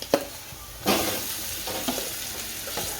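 Potatoes tipped into a pan with turmeric and stirred for a Gujarati sandwich filling, giving a soft sizzle with scraping stirs and a louder clatter as they go in.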